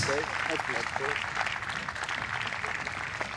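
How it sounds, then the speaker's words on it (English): Crowd applause at a professional men's tennis match between Liam Broady and Sergiy Stakhovsky, a dense steady wash of clapping filling the whole stretch with a voice speaking over it at the start. "Give them a round of applause, they work incredibly hard."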